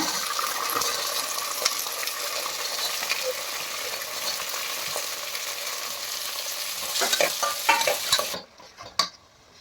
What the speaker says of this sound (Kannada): ಈಗ ಅವರೆಕಾಳು ಹಾಕ್ತಾಯಿದ್ದೀನಿ.